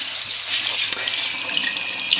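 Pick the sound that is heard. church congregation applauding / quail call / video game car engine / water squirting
water squirting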